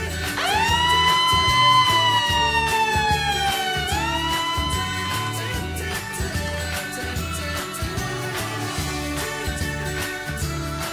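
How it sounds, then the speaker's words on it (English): A loud wailing police siren from a toy police car sweeps up and down continuously, close by, over a rumbling engine and traffic noise. "Police car."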